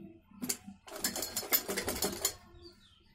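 A sewing machine stitching a double-folded hem on a kurti sleeve, close and clear: a short burst, a brief pause, then a steady rapid run of stitching that stops abruptly, with no talking.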